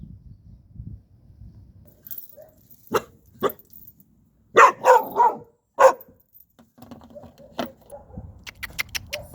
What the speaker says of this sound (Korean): 저 밑에 있는 개는 굉장히 많이 짖는데